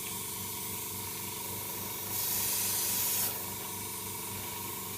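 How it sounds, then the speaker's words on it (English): Spray paint hisses through a piece of foam onto a model car in one short, close burst of about a second over a steady low background hum. "What we need to do is just lay it on like this and spray onto it."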